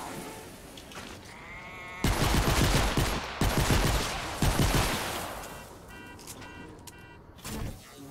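Gunfire from a gun in Fortnite: Save The World rattles in three loud, dense bursts, each a second or so long, between quieter stretches of game noise.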